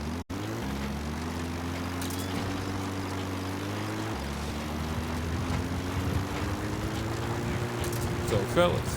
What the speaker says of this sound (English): Copter's out there.